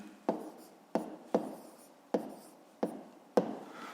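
A pen on paper while working a fifth-grade math exercise: six short, crisp strokes at uneven intervals, each fading quickly, close and quiet.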